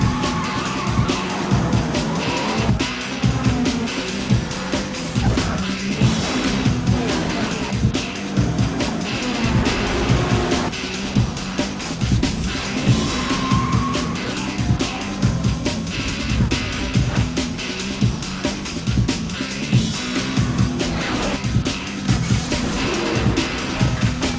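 Street race from The Fast and the Furious film, with cars roaring at high revs and tires skidding and squealing in a dense, continuous racing mix that stays loud throughout.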